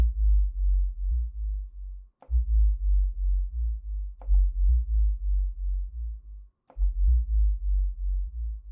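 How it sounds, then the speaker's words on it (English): A low, buzzing synth bass from a pitched-down sub oscillator in Reaktor plays a pulsing repeated pattern, with brief clicky transients at intervals and short gaps between phrases. "And we got our sub sound sounding pretty cool and futuristic."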